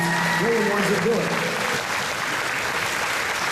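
An audience at the Nautilus Theater in SeaWorld San Antonio breaks into sustained applause, a dense continuous wash of clapping with a voice briefly audible over it.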